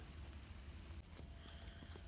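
Rain falls steadily as a soft, constant hiss around a farm carport, with faint scattered drops tapping throughout.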